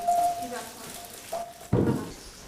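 Chicken pieces laid skin side down in a hot pan give a sudden loud sizzle that stays strong and steady after a few quieter kitchen sounds and a faint voice.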